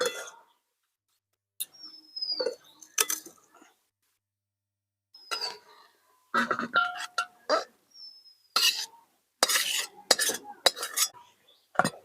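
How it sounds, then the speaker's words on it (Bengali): A spoon scrapes and clinks against a pot while cabbage and chicken curry is stirred, several short bursts of metallic scraping separated by quiet gaps, close and fairly clear, with faint birdsong between. "একবার লেড়ে নেবো ভালো করে"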